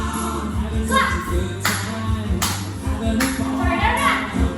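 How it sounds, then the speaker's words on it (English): Group hand clapping during an NHS clap dance, sharp claps at a steady beat over thumping dance music, with children's voices and movement in the background. "Clap."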